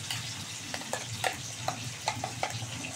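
Ground spice paste of onion, garlic, ginger and green and red chillies fries in a pan with a whole tomato, a steady close sizzle broken by repeated scraping stirs of a spoon, no talk.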